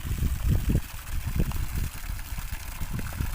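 Rainwater runs steadily off a German-made solar panel during a storm, a continuous wash of flowing water with low, uneven gurgling surges, close and fairly loud.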